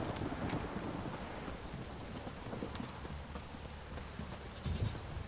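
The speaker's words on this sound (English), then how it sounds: "This downpour's a bastard, it is." Heavy rain pours down in the video game The Witcher 3: Wild Hunt in a steady, dense hiss, with occasional louder gusts and splashes breaking through the constant wash.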